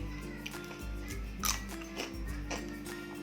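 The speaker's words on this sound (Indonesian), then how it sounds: "Aku suka sama tekstur keripiknya, itu renyah." Crunchy, extra-spicy keripik chips bitten and chewed close up, a few quiet crisp crunches spaced out over a low steady background hum.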